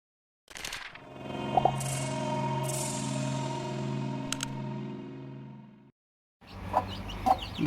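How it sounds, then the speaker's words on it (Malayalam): A country hen clucks beside her chicks that hatched the evening before, close and fairly quiet, with the soft peeping of the chicks. The sound runs steadily for about five seconds, pauses briefly, then resumes. "ആ കോഴിയും ഇന്നലെ വൈകിട്ട് വിരിഞ്ഞിറങ്ങിയ അതിൻ്റെ കുഞ്ഞുങ്ങളെ ഞാൻ നിങ്ങൾക്ക് ഒന്ന് കാണിച്ചു തരാം"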